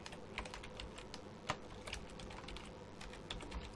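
Someone types on a computer keyboard in quick, light, irregular keystrokes, one slightly louder tap midway, quiet and close with no talking.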